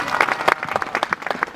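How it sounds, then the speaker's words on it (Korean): Brief burst of clapping from a crowd at an outdoor Wednesday rally in Changwon, with uneven individual claps close by and some vocal sounds mixed in. "힘찬 박수로 맞이해서 발언을 들어보도록 하겠습니다"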